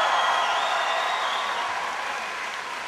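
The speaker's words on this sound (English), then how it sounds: "Give yourselves a big round of applause." Sustained crowd applause at a Barack Obama political rally at Rhode Island College, a dense wash of clapping and cheers that slowly fades, with no speech over it.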